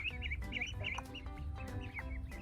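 Several ducks, including newly hatched ones, quack and cluck in quick, chattering bursts close by on a farm, a busy flock sound with steady low background rumble.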